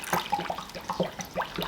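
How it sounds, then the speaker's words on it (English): Water pours into the tank of a Dupray steam cleaner in short, quiet splashing gurgles, close and faint. "you can just pour the water straight in"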